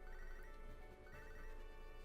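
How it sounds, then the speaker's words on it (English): A phone rings inside the Pokemon Soul Silver video game, a steady electronic ring tone that holds at an even level for about two seconds with no talk over it. "I'm gonna ignore that ringing phone call"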